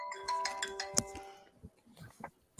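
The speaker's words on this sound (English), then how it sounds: "Phone call." A phone ringtone plays a short tonal melody at low level, followed by a quieter stretch with faint indoor movement sounds.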